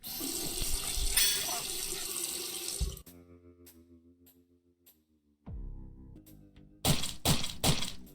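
Water pours into a dog's bowl in the PC video game Stolen Rage. A steady splashing stream runs for a few seconds, gives way to quiet game tones, then returns in short bursts at the end.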